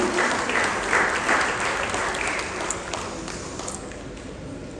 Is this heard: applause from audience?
yes